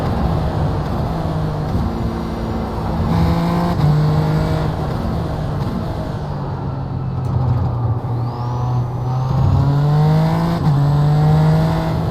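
A race car engine in the iRacing sim runs flat out with a loud, steady high-revving drone, then its pitch drops in stepped downshifts under braking before climbing again.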